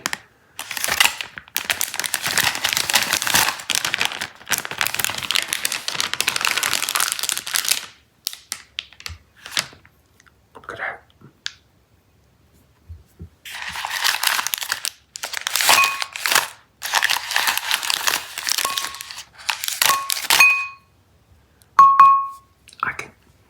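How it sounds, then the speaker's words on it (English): Individually plastic-wrapped Cow Tales Minis strawberry smoothie candies are poured into a glass bowl, giving loud crinkly clattering bursts in several waves separated by quiet pauses and scattered clicks. "I'm gonna pour all the candies in here in a glass bowl for you to see."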